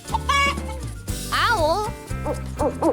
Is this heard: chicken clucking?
yes